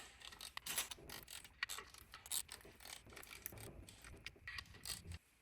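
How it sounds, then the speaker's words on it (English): A hex key tightens 6mm hex flywheel bolts during a Porsche Cayman engine build, quick clicking and metallic ratcheting in rapid bursts, close and faint, stopping near the end. "So kind of evenly tighten them all down first."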